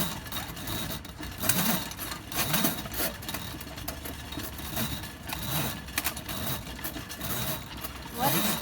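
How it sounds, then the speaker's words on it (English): A drain cleaning machine spins its cable inside a clogged main sewer pipe, giving a continuous mechanical whir with rhythmic surging pulses every second or so and occasional sharp clanks. "What it's doing, the machine is twisting inside all the wire."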